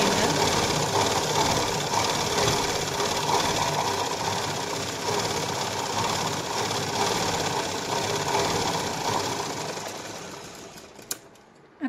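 A sewing machine stitches a katori blouse in one long, steady run, its dense rapid chatter continuing for about eleven seconds before slowing and stopping, with a small click at the end.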